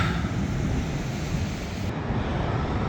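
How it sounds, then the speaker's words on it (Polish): Niagara Falls seen from the Canadian side, a broad, steady roar of falling water that stays constant and unbroken for the whole three seconds, with no one talking. "To jest właśnie wodospad Niagara."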